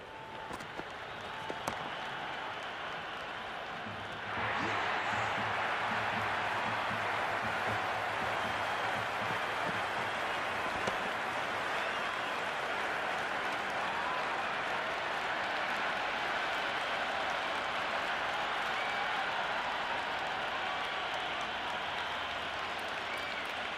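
Stadium crowd cheering at a T20 cricket match in the Cricket 26 video game, a broad roar that swells abruptly after a few seconds and then holds loud and steady, with faint quieter crowd noise before it.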